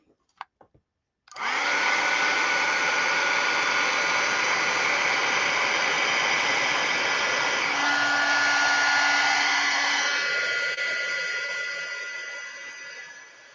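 A dryer blows to dry freshly applied Distress Glaze on artwork: a few faint clicks, then a loud, steady whooshing roar starts abruptly and runs for about twelve seconds, easing slightly toward the end.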